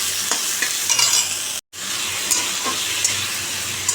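Potato, onion and green chili frying in a pan, a steady bright sizzle with occasional scrapes of stirring, broken by a brief dropout midway.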